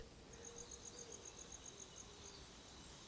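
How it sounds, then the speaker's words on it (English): Cicadas hidden in olive trees in Tuscan heat give off a faint, evenly spaced pulsing chirr, a dozen or so rapid regular beats over a soft hiss, then fade out. "The cicadas, hidden in the olive trees beyond the wall, provide a constant shimmering wall of sound."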